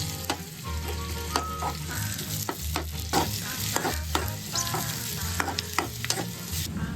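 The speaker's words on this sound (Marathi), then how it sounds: "मग टाकणार आहे कांदा आम्ही एक कांदा घेतलाय" Sliced onion sizzles in a hot pan while a spoon stirs it, a continuous close crackle punctuated by repeated scraping clicks, with no one talking.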